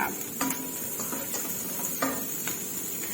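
Chinese sausage stir-fried in oil in a pan, a light sizzle punctuated by a few sharp spatula clacks and scrapes against the metal at irregular intervals.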